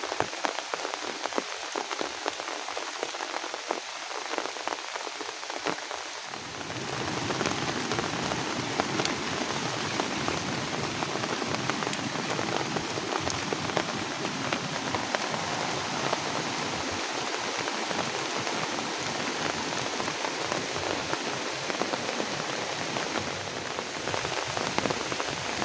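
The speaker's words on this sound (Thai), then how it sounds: "ฝนตกเลยนะ" Rain falls all day in a rural home setting, a dense steady patter that swells into a louder, heavier downpour after a few seconds and then stays loud and unbroken.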